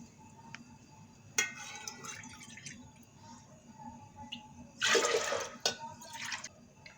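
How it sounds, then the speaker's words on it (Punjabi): Water is poured into a pressure cooker holding whole masoor lentils: scattered drips and small clinks, then a short, close splashing pour and a few trailing drops. "ਇਹਦੇ ਵਿੱਚ ਆਪਾਂ ਹੁਣ ਤਿੰਨ ਕੋਲੀਆਂ ਪਾਣੀ ਦੀ ਐਡ ਕਰਾਂਗੇ"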